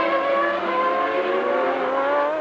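Michael Schumacher's Formula One car accelerates hard out of the pit stop at the 1995 Australian Grand Prix, a loud, sustained high-pitched engine howl that rises steadily and holds throughout with no break.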